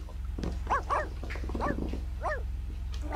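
Small dog in The Sims 2 giving several short, high yapping barks spaced unevenly over a steady low game hum.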